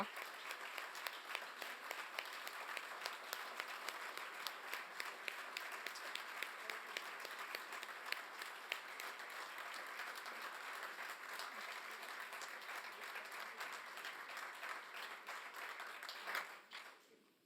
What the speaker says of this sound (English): we are going to clap